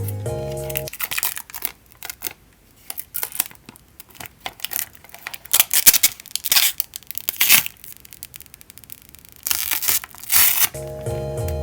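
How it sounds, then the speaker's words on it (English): Crinkly plastic wrapping is pulled and torn off a small TP-Link network switch, with bursts of crackling and rustling close by and short quieter gaps between handfuls. "Let's go ahead and take out the plastic."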